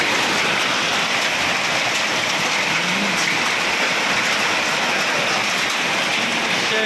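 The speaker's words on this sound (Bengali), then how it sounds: "এই ডেঞ্জারে বৃষ্টি হচ্ছে।" Heavy rain pours steadily in Saudi Arabia, a dense, continuous broadband hiss with no pauses and no voices.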